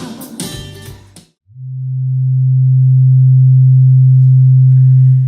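A sine wave generator sounds one loud, steady low tone that holds unbroken for about four seconds after a short burst of other sound and a brief gap.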